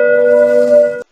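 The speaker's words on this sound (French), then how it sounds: "n'oubliez pas de mettre la cloche" A single bright notification bell ding with a clean, sustained ring and overtones that lasts about a second, then cuts off abruptly, with no other sound around it.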